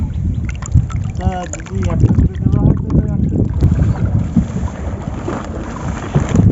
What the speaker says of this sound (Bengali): ভীষণ হাওয়া সে কারণে আমাদের ছাউনি খুলে দিতে হয়েছে